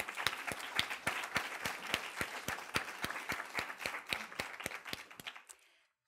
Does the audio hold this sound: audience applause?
yes